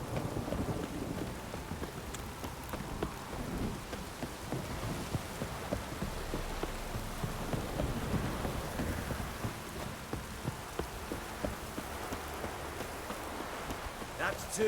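Steady rain pattering in The Witcher 3, a continuous dense hiss of drops on surfaces throughout, with occasional voices talking over it.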